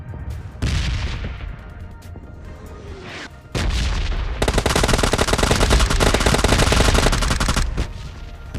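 Gunfire in the mobile battle royale game PUBG Lite: scattered single shots and short bursts, then a sustained rapid automatic volley with sharp cracks and low booms, loud and close, with no talk.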